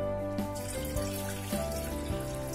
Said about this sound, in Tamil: 4 டம்ளர் தண்ணி ஊத்தலாம்.